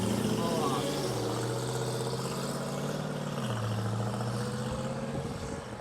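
A Jeep Trackhawk engine running steadily as the vehicle pulls away, a low droning hum with a slight pitch shift partway through, moderately loud and with no talk over it.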